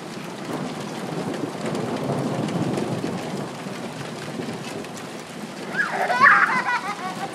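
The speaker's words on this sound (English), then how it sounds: "Thunder and lightning and hail." Thunderstorm with rain and hail outdoors, a steady hiss of falling precipitation with a low rumble of thunder building in the first half, and a voice speaking briefly near the end.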